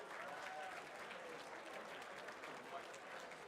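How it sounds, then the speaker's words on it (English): A crowd at a charity race night auction claps for Michael, a dense, even round of applause that sounds faint and distant, with chatter running under it. "Give Michael a big round of applause."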